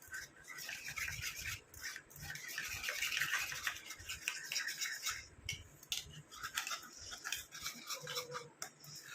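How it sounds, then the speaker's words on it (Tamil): Hair dye paste being stirred and mixed in a bowl to work out lumps, giving a steady close scraping and rubbing sound with irregular strokes throughout and no talking. "இந்த கட்டிகள்லாம் இல்லாமல் நல்லா மிக்ஸ் பண்ணி விட்டுருங்க."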